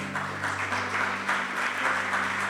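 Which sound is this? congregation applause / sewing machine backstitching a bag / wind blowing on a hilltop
congregation applause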